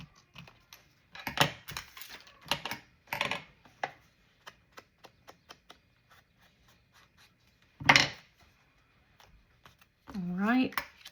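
Scissors trimming a paper piece for a junk journal corset pocket, a series of close crisp snips and rustles of paper, with a few brief spoken words between the cuts.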